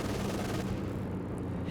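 Panther machine-gun fire in the Company of Heroes 2 strategy game, heard as a dense, rumbling rattle of gunfire and low booms that blends into a continuous battle din, with no talking.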